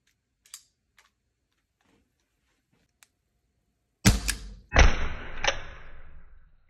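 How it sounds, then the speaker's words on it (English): A CO2-powered Bug-A-Salt salt gun fires at a moth indoors, giving two sharp, loud cracks about a second apart, each followed by a rattling spray, after a few faint ticks of quiet handling. "it's time for the bug assault. The CO2-powered gun."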